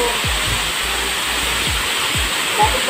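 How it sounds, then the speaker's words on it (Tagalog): Puting Bato Falls in Little Baguio, Suralla, South Cotabato roars as a steady, loud wash of falling water, close and continuous, with a few low thumps in the background. "Dito na tayo sa first falls"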